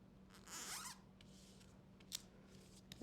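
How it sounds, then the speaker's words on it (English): Scissors snipping duct tape in quick, quiet cuts, with a couple of short sharp snips and a faint rasping slide, close by against a low steady hum. "Snip and snip."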